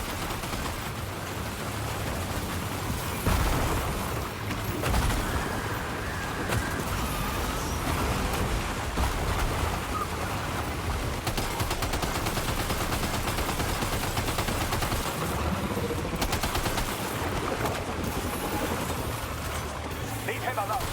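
Continuous machine-gun fire and combat noise in Death Stranding 2, loud rattling bursts mixed with engine drone and score, while in-game voices talk over the action.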